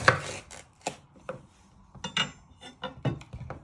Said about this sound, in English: You first chop the head off.